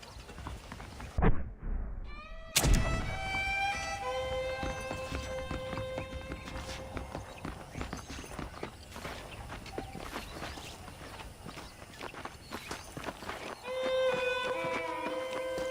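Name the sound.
horse hooves clip-clopping, from a video game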